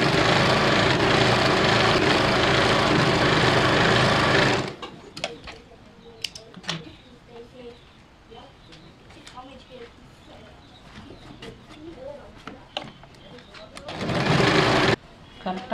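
A sewing machine runs steadily for a few seconds as a blouse seam is stitched, then goes quiet during handling of the fabric before starting up again briefly near the end; a voice talks over it.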